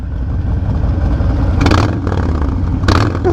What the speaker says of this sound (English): I want to hear this exhaust. Rev it up.